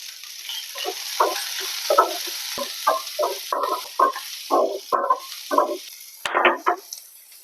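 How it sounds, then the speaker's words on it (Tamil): Chopped vegetables for bread omelette sizzle and hiss in a hot pan, with repeated scraping and stirring strokes in an uneven rhythm, close up and fairly loud. "எல்லாத்தையும் ஒன்றா போட்டு நல்லா வதக்கி எடுக்கணும்"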